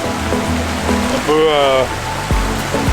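Continuous rushing water of a river in its rocky bed in Martinique during a light rain shower, with a brief raised voice and some background voices over the flow.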